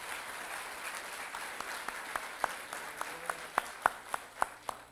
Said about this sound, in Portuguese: Eu quero que lhe apresentem um aplauso